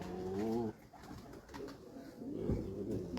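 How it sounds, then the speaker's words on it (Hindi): Soft, throaty cooing of pigeons nearby, a few rolling coos with brief pauses and light rustling in between. "इसी मतलब शक्ल में ये कबूतर शाम तक बैठे हैं यहाँ पे।"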